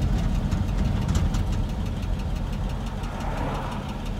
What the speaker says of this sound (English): You hear that lifter clattering in there.